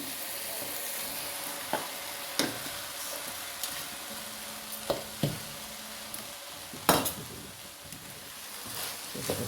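Cooked rice is stirred into masala in a frying pan, with a soft steady sizzle broken by occasional sharp spoon scrapes and knocks against the pan, close by and moderately quiet.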